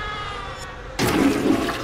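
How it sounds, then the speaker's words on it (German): Toilet flushing in the horror game The Nightfall: after a quiet low hum, a sudden loud rush of water bursts in and keeps gushing steadily to the end. "Die Spülung geht einfach."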